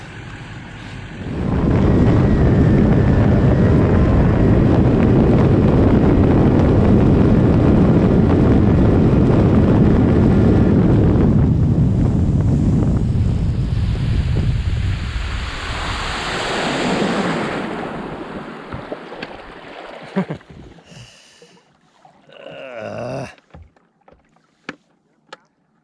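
A jet ski riding across water, with a loud, steady roar of engine, spray and wind rush that fades after about fifteen seconds into quieter splashes and a few knocks near the end.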